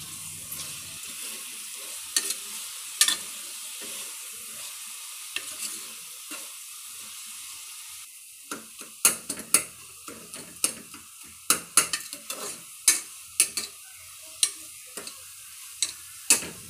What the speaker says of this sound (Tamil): புதினா இலை சேர்த்து நல்லா வதக்கி விடுங்க.